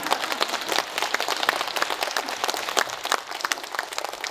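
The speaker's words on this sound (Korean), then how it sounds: "그래도 이렇게 좀 박수 한번 치죠." An audience at a talk concert claps in a lively burst of individual, crisp hand claps that stays fairly even and moderately loud throughout.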